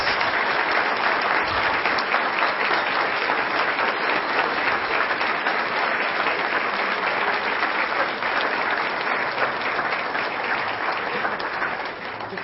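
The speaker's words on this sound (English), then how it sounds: "let's give them all a round of applause" Audience applause at a school board meeting honouring a student team, a dense steady wash of clapping lasting over twelve seconds, tapering slightly at the very end.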